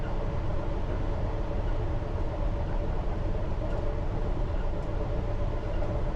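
A London Underground Piccadilly Line train rolls steadily downhill along the tracks with a continuous rumble and rushing noise, close and loud, and no voices.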